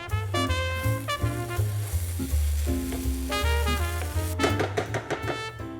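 Keema masala sizzles and fries steadily in an open pan as it dries out, a continuous crackle partly masked by loud background music.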